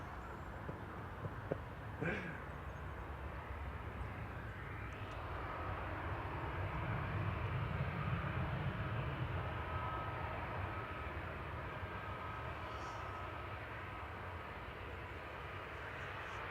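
Ryanair jet departing Manchester Airport for Milan rumbles in the distance, swelling to a low roar midway and then easing off, with a few brief knocks early on and no clear speech.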